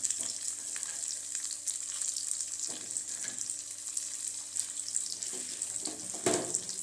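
Cumin, cinnamon, cloves and spices frying in oil in a pan, a soft continuous sizzle with a few brief stirring clinks, close and fairly quiet.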